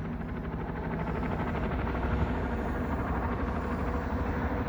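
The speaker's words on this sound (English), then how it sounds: "Oh, that's a police helicopter." A steady low rotor thrum of a police helicopter fills the clip, continuous and fairly loud as if passing overhead, with no voices.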